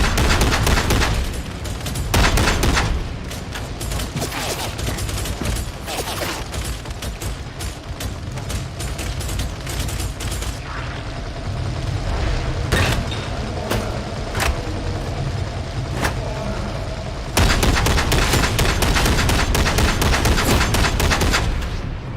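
Gunfire in the video game Warhammer 40K Darktide, dense rapid bursts of shots rattling over a constant loud din, pausing briefly mid-way before heavy firing resumes, with no talking.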